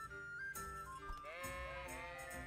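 Sheep bleating in the medieval farm setting of Kingdom Come: Deliverance, with a few wavering bleats over steady game background sound and no speech.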